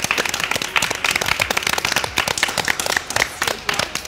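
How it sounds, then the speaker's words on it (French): Audience clapping loudly and steadily for a food-tasting show segment under hypnosis, a dense burst of claps with a few sharp louder pops, close and lively, with no talking over it. "On peut vraiment les applaudir très très fort."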